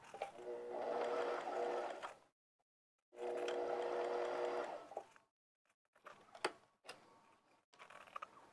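A sewing machine stitches a pocket opening shut in two steady motor runs of about two seconds each, followed by scattered clicks and light handling noises.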